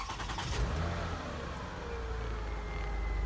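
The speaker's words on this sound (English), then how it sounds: "Let's do a start up here and roll down the window." 2005 Toyota Highlander with a 3-liter V6 and about 194,000 miles, heard from inside the cabin with the window down: a steady, continuous engine rumble with a brief rise near the start, close and fairly even.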